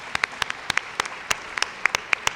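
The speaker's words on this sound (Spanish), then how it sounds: "Un aplauso." Scattered, sparse clapping from a small studio audience on a Mexican quiz show, a handful of distinct sharp claps spread unevenly over a couple of seconds rather than a full ovation.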